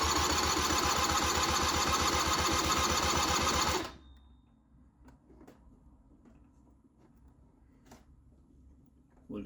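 A Hyosung Sense 2001 scooter engine cranked over for a compression check, a loud, steady rapid chugging for about four seconds that stops abruptly, leaving quiet clicks and faint handling noises.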